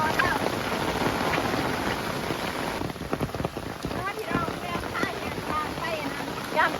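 Steady rain drums on a surface throughout, with gusts of wind buffeting the microphone; a dense, loud wash of droplets with a voice speaking faintly underneath in the middle.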